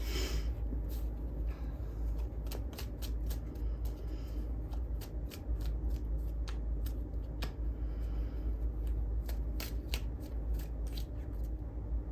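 Tarot cards being shuffled by hand, a steady run of soft flicks and riffling snaps over a constant low background hum, no voices.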